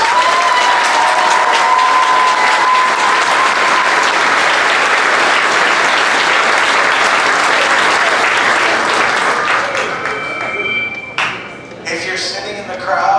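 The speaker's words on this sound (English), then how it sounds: "Give them a hand." Loud, sustained applause and cheering from a football crowd at a Sardis Falcons home game and jersey retirement, greeting the visiting Sullivan Heights team, steady for about ten seconds before thinning into scattered claps and a few whistles.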